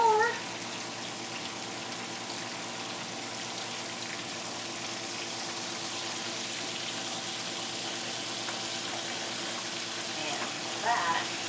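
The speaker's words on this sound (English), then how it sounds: "Super quick rinse." Water runs steadily over a Springer spaniel during a quick bath rinse, a soft, even splashing hiss lasting throughout with no pauses.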